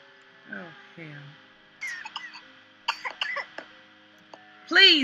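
Several short coughs from a character in the video game Lost Souls, a couple of low rough coughs early, then quieter clicks and a louder raspy burst at the end.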